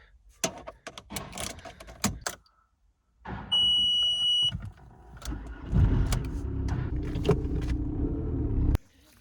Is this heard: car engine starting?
yes